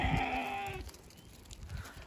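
A passing herd of sheep and goats on a mountain road in Ladakh, with one loud, close bleat at the start followed by faint hoof shuffling and rustling.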